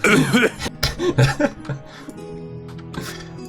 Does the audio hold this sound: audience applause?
no